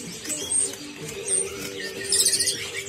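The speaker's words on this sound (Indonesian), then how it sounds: "Ini namanya Blue Robin ya." At a bird market, a young Siberian blue robin gives quick, high chirps and a short twittering burst toward the end, over busy, murmuring market background noise.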